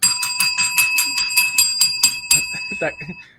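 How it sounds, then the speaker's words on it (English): A bell is rung rapidly in an office, about a dozen bright metallic dings in quick succession that fade at the end, with voices talking over the ringing. "My man got the bell."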